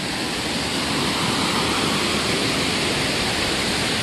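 Waterfall at Giang Dien Ecopark in Vietnam, a steady broadband rush of falling water, constant and enveloping with no voices.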